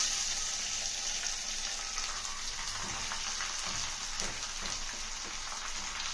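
Tempering sizzles in hot oil for a bitter gourd chutney in a clay pot, a soft, steady frying hiss with faint stirring, no talking.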